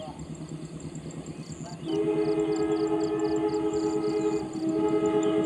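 The Pandanwangi passenger train's horn blares in steady, sustained blasts over its rumbling as it passes at speed, with a brief dip before it sounds again.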